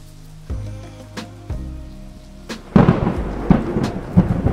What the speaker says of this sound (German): Das Gewitter ist ziemlich nah.